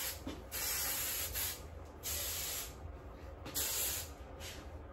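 Several bursts of aerosol hairspray hiss close by, each lasting about a second, separated by short pauses with faint background noise.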